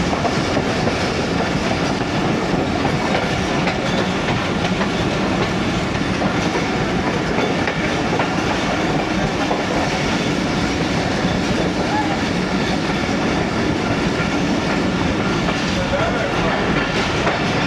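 A train passing on a Pakistani branch line near Sialkot, its railway wagons clattering in a loud, continuous clickety-clack rumble that stays close and steady throughout.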